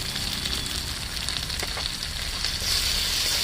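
Ground peanut, poppy seed, melon seed and ginger pastes hitting hot oil in a pan for a vegetarian pointed gourd curry, producing a loud, continuous sizzle and crackle with faint stirring scrapes, and no voices.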